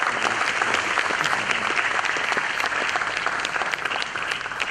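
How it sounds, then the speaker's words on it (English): Sustained, dense applause from an auditorium audience at the launch of a book by Jean Drèze and Amartya Sen, a steady wash of many hands clapping at even loudness throughout. "A round of applause, ladies and gentlemen."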